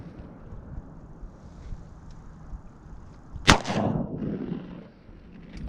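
A single sharp shotgun blast rings out outdoors during a goose hunt, followed by a rolling echo and fading wind noise.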